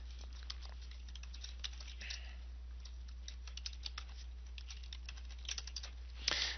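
Light, quick typing on a computer keyboard at an office desk, faint and steady over a low electrical hum, with scattered key taps and a slightly louder burst near the end.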